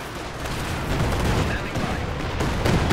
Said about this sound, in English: Good Katyusha barrage here.